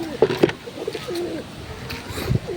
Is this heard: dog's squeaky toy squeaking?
no